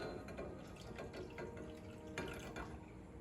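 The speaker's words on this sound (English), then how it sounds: "I'm going to pour 3/4 cup of water around the edge of the pan," Water streams and splashes steadily into a pan of homemade graham cracker dough, a continuous close-up pouring with small drips, no talking.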